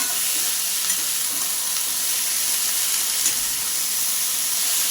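Finely shredded cabbage, cut with a traditional bonti blade, is stirred in a pan for a vegetarian cabbage ghonto, giving a steady close hiss and sizzle with soft scraping throughout, without talk.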